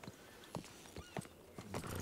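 In a roleplay video game, a horse's hooves clip-clop in a loose, uneven rhythm on a hard surface, close and fairly quiet against a faint background hum.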